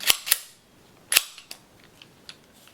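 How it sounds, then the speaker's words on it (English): A Sccy CPX3 .380 pistol is being field stripped, giving a few sharp metallic clicks and snaps, two close together at the start, then a louder one and several fainter ticks, with no talking. "field stripping this gun"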